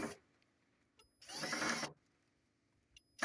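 A power drill drives screws into wood, one short whirring burst in the middle, close and fairly loud, with quiet pauses and faint clicks before and after.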